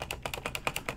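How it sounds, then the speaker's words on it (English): Keys pressed on a Color Computer keyboard during BASIC editing, a quick run of about ten evenly spaced sharp clicks close up, with no talking. "so we hit spacebar"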